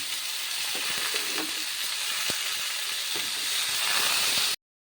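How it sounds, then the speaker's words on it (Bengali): Potatoes and cauliflower florets frying in oil in a pan, a loud dense sizzle running steadily throughout with occasional stirring scrapes, then cutting off abruptly just before the end. "এবার তাতে আমি ফুলকপিগুলো দিয়ে দিচ্ছি ফুলকপিগুলিও আবার মিনিট পাঁচেক ভেজে নেব"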